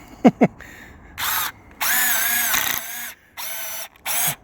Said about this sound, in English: That way I can drill a pilot hole through this without doing the same to the other board.